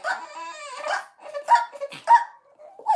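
A female dog gives a string of high whiny yips and short bark-like vocal bursts, close and fairly loud, rising and falling in pitch over a few seconds.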